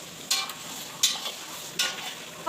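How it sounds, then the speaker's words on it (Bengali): Spices for chicken curry are stir-fried in a pan with three crisp scraping strokes of a spatula at regular intervals over a soft, continuous sizzle, close and clear with no talking. "এখানে দেখো চিকেন রান্নার জন্য মশলা কষাচ্ছে। এবার চিকেন দিয়ে দেবে।"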